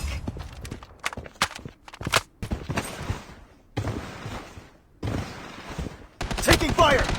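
Gunfire in the BloodStrike shooter game: sharp rapid shots and short bursts, close and loud, broken by brief silences and a final dense flurry, with game announcer voice lines in between.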